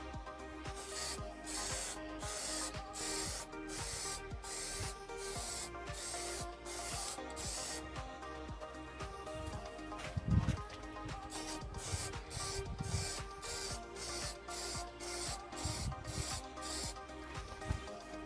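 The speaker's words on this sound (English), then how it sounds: "a quick spray here, make sure it's all good" Repeated short bursts of aerosol clear coat spray hiss onto carbon fibre trim, a steady rhythm of quick blasts with brief pauses, close by, with faint handling rubs between them.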